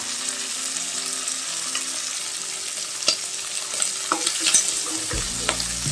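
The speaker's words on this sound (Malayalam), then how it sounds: "നല്ല വെളിച്ചെണ്ണയാണ് ചെമ്മീൻ ഫ്രൈ ചെയ്യാനായിട്ട് ഫ്രൈ ചെയ്യാം ചെമ്മീൻ നന്നായിട്ട് ഫ്രൈ ആയിട്ടുണ്ട്" Prawns fry in coconut oil in a pan with a steady close sizzle, broken by light scraping and stirring clicks, before a low hum rises near the end.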